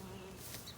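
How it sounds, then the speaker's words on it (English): Honeybees buzz around an opened hive during a June inspection, a soft, steady insect hum at low level with no talk over it. "Look, there's a bee on the rock."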